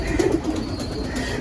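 Pigeons at a pigeon market cooing, soft low repeated coos close by with faint background bustle.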